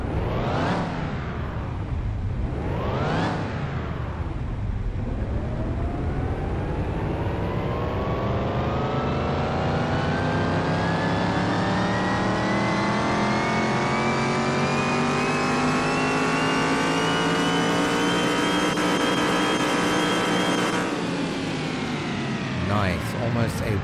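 A tuned car engine revving hard on a dyno in Car Mechanic Simulator 2021, two quick blips and then one long climbing pull to high revs before cutting off, loud and sustained.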